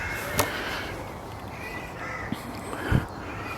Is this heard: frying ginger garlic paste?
no